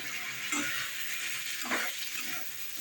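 Fried spice mix goes into dry cooked taro in a pan with a steady low sizzle, and a spoon scrapes and stirs through it in a few soft strokes.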